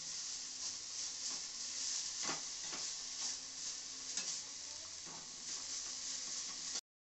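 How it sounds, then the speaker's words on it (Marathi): Garlic and green chilies sizzle steadily in a pan over a low flame while a spoon stirs them, with scraping strokes recurring every second or so under the continuous frying hiss. "चांगलं हे परतून घ्यायचं, अगदी 1 मिनिट परतायचं फक्त।"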